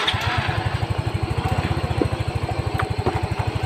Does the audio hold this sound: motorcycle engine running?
yes